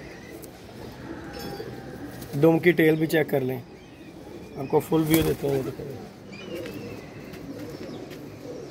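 Pigeons coo nearby in two clear rolling bursts, with someone talking over them throughout.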